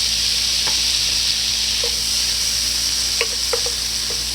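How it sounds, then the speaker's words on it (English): Corn and green beans sizzle steadily in melted butter on high heat, a dense continuous frying hiss close by, with a few light clicks of stirring scattered through and no talk. "Now that most of my butter is melted, I'm gonna just go ahead and dump my corn and green beans up in there"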